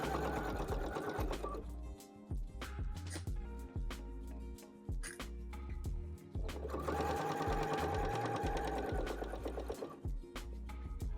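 A sewing machine stitches a leather wallet, running in steady bursts of rapid needle strokes with short pauses between runs, close and fairly loud, with a brief murmured voice at times.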